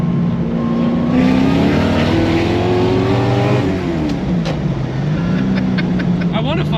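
Carbureted car engine revving hard toward about 9,000 RPM, a loud close roar with pitch climbing, dipping and climbing again, people talking over it.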